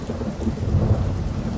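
Thunderstorm ambience played back from a recording: steady rain with a deep rolling thunder rumble swelling in the middle, fairly loud and with no voices.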